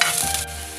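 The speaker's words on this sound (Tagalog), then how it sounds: "magsusutay na ako ng garlic" Garlic sautés in a hot pan for a coconut-milk laing dish, giving a loud, close, continuous sizzle with a brief stirring shift partway through and no talking.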